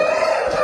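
A rooster crows close and loud, one brief sustained harmonic call with no voices over it.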